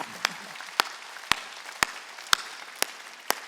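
A congregation at a Wednesday church worship service claps in slow, evenly spaced beats, about seven sharp claps over a soft room hiss, with no talking.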